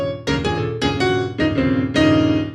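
Solo jazz piano chords, five ringing block-chord attacks in an uneven swing rhythm, close and clear with sustained resonance between strikes, no talking.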